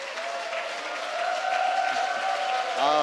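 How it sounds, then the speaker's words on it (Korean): A church congregation at an all-church revival meeting applauds in a steady, sustained wash of clapping, with sustained musical tones ringing underneath. "이 박수가 저에게 얼마나 부담스러운지 아마 여러분들은 모를 겁니다."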